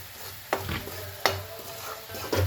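Bottle gourd curry seasoned with Kashmiri chilli and salt cooks in a pan: a steady close sizzle with three sharp spoon scrapes against the metal, no speech.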